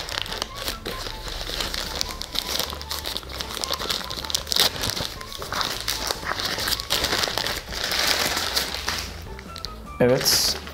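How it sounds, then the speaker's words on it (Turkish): A plastic parcel package is torn open quickly, giving close, loud crinkling and ripping in irregular bursts. A voice talks faintly underneath. "Şimdi direkt bu paketi arkadaşlar hızlı bir şekilde yırtmak istiyorum."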